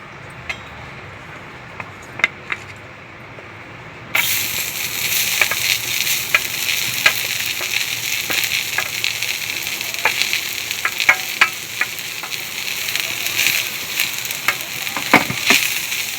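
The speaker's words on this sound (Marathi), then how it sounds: "आता आपण कांदा घालून घेऊ" Chopped onion hits a hot pan with freshly roasted whole spices for sev bhaji, erupting into a loud, steady sizzle after a quiet start, with scattered crackles and pops throughout.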